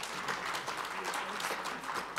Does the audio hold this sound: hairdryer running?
no